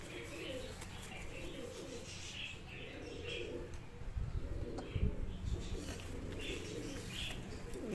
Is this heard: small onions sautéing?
no